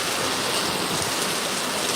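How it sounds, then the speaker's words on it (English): Rain falls steadily outdoors while wind blows, making a dense, unbroken hiss that stays loud and even from start to end with no voices. "I know y'all hear the rain, the wind blowing"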